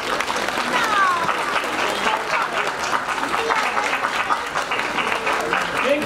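Steady, dense applause from a crowd at a prize ceremony for a dachshund march fills the whole stretch without pause, with a few voices faintly mixed in.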